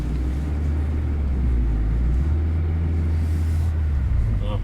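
A BAW 212 SUV drives across a field, its engine a steady, loud low rumble with constant drivetrain drone throughout and no talking.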